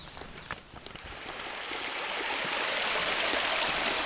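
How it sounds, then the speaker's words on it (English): A creek flowing nearby along a forest trail, a soft continuous burbling wash with a few small splashes early on, growing slightly louder and steadier, with no voices. "I can hear the creek just over in this direction"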